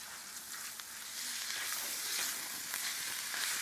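Sun-dried tomato paste sizzles and crackles loudly in a hot cast-iron skillet, with a steady hiss broken by small pops and faint stirring scrapes.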